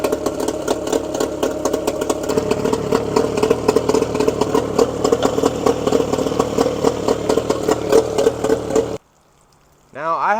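Outboard engine on a cheap used fishing boat running steadily at a mid-pitched idle with a rough clatter, loud and close for about nine seconds before cutting out, with a voice speaking over it.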